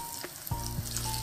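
Green chili, chopped curry leaves and a few pinches of asafoetida hit hot oil for a tempering, bursting into a brief close sizzle with a couple of sharp spits.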